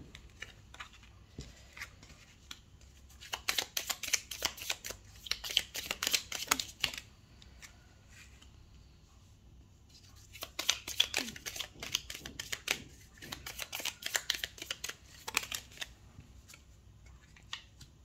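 Tarot cards shuffled and drawn, heard as two separate bursts of crisp, rapid riffling and snapping, each several seconds long, with quiet handling between them and no voices.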